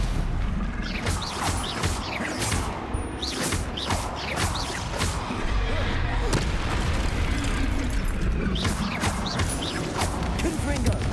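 Fire-spell blasts from Confringo being cast in Hogwarts Legacy, booming and crackling again and again within dense, continuous battle noise, loud and busy throughout with no pause.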